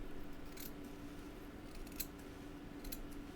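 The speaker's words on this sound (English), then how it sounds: "You can also use your scissors" A few quiet, sharp snips of scissors cutting thread while fly tying with a dubbing spinner, spaced apart over a steady low background hum.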